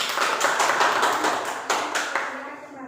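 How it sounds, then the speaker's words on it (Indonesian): Classmates in a classroom clap for a student group, a short burst of quick, fairly close hand claps that thins out and fades toward the end. "berikan tepuk tangan untuk kelompok 1"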